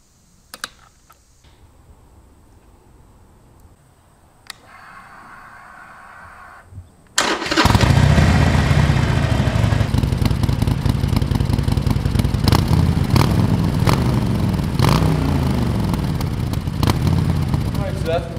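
A 2019 Harley-Davidson Iron 1200 motorcycle sits quiet under faint clicks, then its engine fires suddenly and settles into a loud, close, steady idling rumble that continues to the end.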